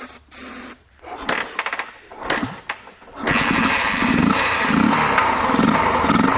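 A military Harley Davidson dirt bike engine running on its carburetor sputters and catches in uneven bursts, then settles into a loud, steady, rough-running drone close by.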